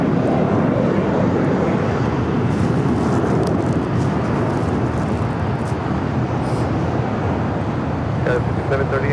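A Lufthansa Boeing 747 lined up for takeoff at LAX gives a steady, heavy low rumble of idling engines, fairly loud and unchanging, with a person speaking over it.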